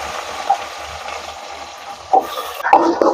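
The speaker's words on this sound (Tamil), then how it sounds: "இப்ப வெங்காயம் வதங்குது" Shallots, curry leaves, green chili and fenugreek sautéing in hot oil for a Jaffna-style crab fry, a steady soft sizzle with a few louder scraping stirs toward the end, close and with no talk.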